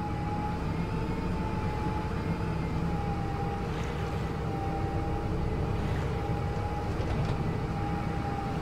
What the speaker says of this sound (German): Also der Fendt macht schon ein bisschen ein komisches Geräusch, finde ich.